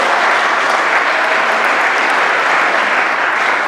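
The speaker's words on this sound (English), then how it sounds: "Let's give Carl another round of applause." An audience at a card-trick magic performance gives loud, sustained applause, a dense unbroken wash of many clapping hands with no pauses throughout.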